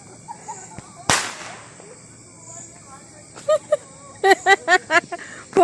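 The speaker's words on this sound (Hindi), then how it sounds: "यहाँ पे सब लोग पटाखे फोड़ रहे हैं" A Diwali firecracker bursts with a single sharp, loud crack and a brief fading tail, followed by a series of short, bright voiced calls or shouts from people nearby.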